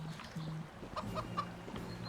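A chicken in the fantasy role-playing game Divinity 2 clucks in short, repeated bursts over a steady ambient game background, with no talking.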